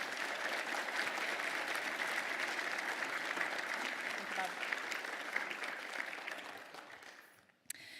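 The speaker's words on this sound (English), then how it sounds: "May we please have a round of applause for the talents of our piper today" A community award ceremony audience applauds a piper, steady dense clapping holding for about seven seconds before tapering off near the end.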